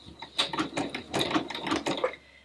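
A sewing machine fitted with an overcast presser foot stitches in short bursts, a few quick back stitches of rhythmic mechanical clatter close by, with no talk.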